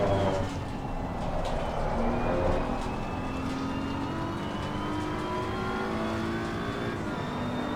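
Race cars, a Porsche and a Honda, drone along the track with steady engine noise and rising pitch as they accelerate, close and continuous.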